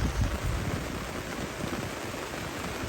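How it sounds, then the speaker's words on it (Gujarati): Dense, continuous downpour of heavy rain in Patan, India, a loud steady hiss with no voices. "અત્યારે હાલ ધોધમાર વરસાદ વરસી રહ્યો છે પાટણમાં"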